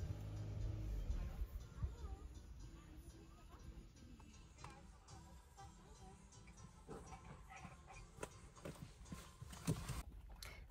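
A horse's hooves clop faintly and irregularly on hard ground, a few soft knocks over a low, distant rumble.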